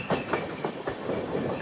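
Karnataka Sampark Kranti Express (12650) running on the rails, heard from inside a coach as a steady rumble with rhythmic clickety-clack wheel beats about every quarter second, close and continuous.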